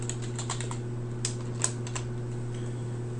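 Rapid keystrokes on a computer keyboard with an irregular clicking rhythm, close up and fairly quiet over a steady low hum.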